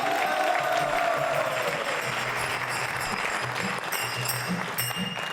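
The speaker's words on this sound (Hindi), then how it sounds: "जोरदार तालियां बजाइए एक बार।" Loud, sustained audience applause with some cheering fills the hall at a Hare Krishna Mission quiz show on Sanaatan Dharma, a steady dense clapping roar throughout.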